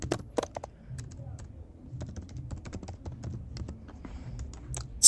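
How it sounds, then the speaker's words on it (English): A computer keyboard being typed on while entering text in a Figma design, scattered soft clicks, a few sharper strokes near the start and end, close-miked and otherwise quiet. "we're just simply going to type our test"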